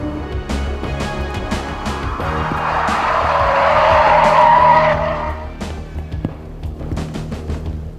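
Ferrari 355 and 348 race cars scream past at well over 220 km/h on a track's back straight, a loud engine roar that swells and fades as they pass, with tire squeal and a rising whine.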